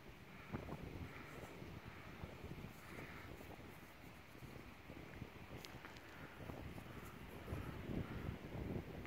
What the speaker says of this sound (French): il y a beaucoup de vent hein